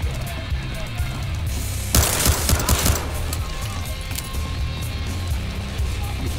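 Gunfire from the first-person shooter Battlefield Hardline, a loud burst of rapid shots that breaks out suddenly and lasts about a second, followed by quieter scattered shots and mechanical game sounds.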